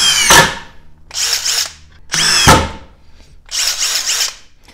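A Makita XDT19 cordless impact driver drives screws in short bursts, loud and close, with a whining motor and rapid hammering clatter in each burst, separated by brief pauses and quieter trigger-feathered runs.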